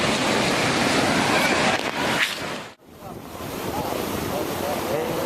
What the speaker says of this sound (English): This tsunami that hit California was caused by an earthquake off the coast of Japan.